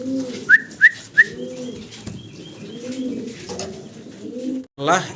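English Carrier pigeons coo in repeated low, rolling phrases, with a few short sharp chirps early on and a brief flutter near the end.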